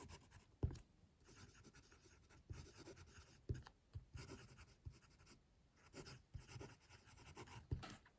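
The nib of a Wancher Kaleido Queen Horizon fountain pen scratches softly across paper in short strokes and small taps, very faint and close, with no talk.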